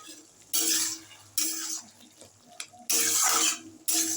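Gourd curry sprinkled with flour is stirred in a pot, with scraping, clinking strokes in four loud bursts separated by quieter gaps.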